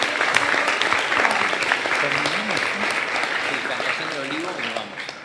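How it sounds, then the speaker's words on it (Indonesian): An audience claps together at a papal gathering with young people and teachers, steady broad applause for several seconds while an amplified voice speaks over it. "Tepuk tangan."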